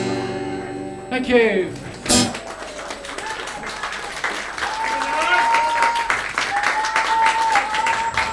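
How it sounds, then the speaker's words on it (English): Applause from a live music audience after a performance by a local musician, many hands clapping steadily and fairly loud, with voices and calls underneath and a brief sharp knock near the start. "Give him a massive round of applause."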